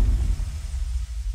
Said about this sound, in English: And then over here, I just have this impact.